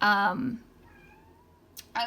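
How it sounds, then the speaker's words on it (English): A house cat howls to be let out into a garage, giving one loud, drawn-out meow at the start. Near silence follows, then brief sharp sounds return at the end. "My cat was howling to go out in the garage"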